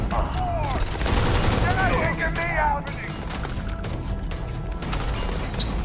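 Gunfire in the Starfield video game, rapid bursts of shots mixed with crashing effects and a steady low rumble, with synthesized voice-like tones and a person talking over the din.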